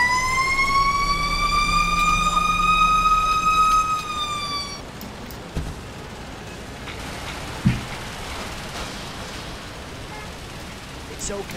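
A fire engine in the video game Emergency 4 wails with a loud rising siren for about four seconds, then cuts off, leaving a steady rain-like hiss with a couple of faint thumps.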